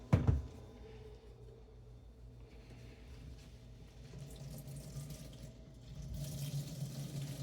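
Water squeezed from chopped cabbage splashes and trickles into a sink after a brief sharp knock, with a low, steady wash of liquid that swells slightly near the end.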